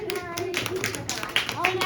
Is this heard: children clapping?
yes